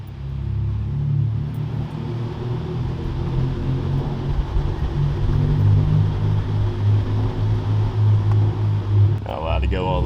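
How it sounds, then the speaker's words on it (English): A big turbo VW MK7 GTI drives through a parking deck, its exhaust booming and droning loudly off the concrete walls in a continuous low rumble, with a voice talking over it near the end. "This car is so loud in here though,"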